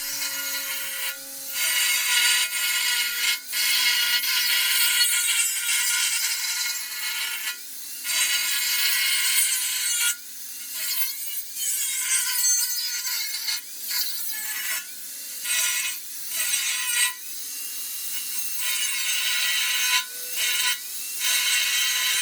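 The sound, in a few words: angle grinder cutting off the ends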